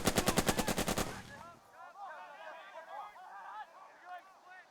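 Automatic gunfire in the World War II strategy game Burden of Command: a loud rapid burst of about a dozen shots in the first second, followed by a quieter stretch of distant battle noise with people talking over it.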